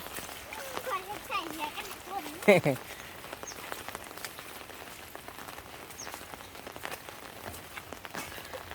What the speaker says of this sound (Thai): ฝนตก เอ้ยเอ้ย ฝนตก